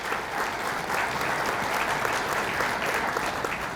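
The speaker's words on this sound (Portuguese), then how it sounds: "Uma salva de palmas para o Ricardo." Audience in an auditorium applauding a presenter after a technical talk on a hydroelectric plant modernization, a full, dense round of clapping sustained steadily and fairly loud throughout.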